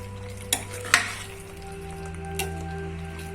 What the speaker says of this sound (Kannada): ನೋಡಿ, ನಿಧಾನಕ್ಕೆ ಗ್ರೇವಿ ಚೆನ್ನಾಗಿ ಕುದೀತಾ ಇದೆ.